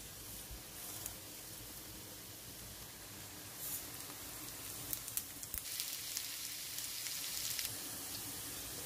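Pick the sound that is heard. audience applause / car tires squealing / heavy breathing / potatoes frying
potatoes frying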